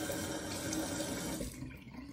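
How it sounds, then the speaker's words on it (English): Tap water runs steadily into a sink as eyes are rinsed, a close splashing rush that cuts off near the end and leaves a few faint drips. "Now before I open my eyes, I go ahead and rinse it with water."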